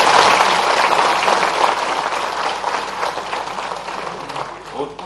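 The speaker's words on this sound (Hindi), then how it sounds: "जोरदार तालियां बजाए इस बात के।" A large audience at a state-level cooperative conference in Bhopal breaks into loud, sustained applause, dense clapping that gradually thins out over several seconds.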